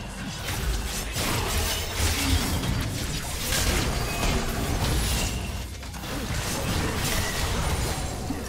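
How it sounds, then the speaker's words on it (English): A League of Legends turret being destroyed, heard as loud, dense crashing and shattering with grinding mechanical clatter that keeps going across the stretch. "Team's turret has been destroyed"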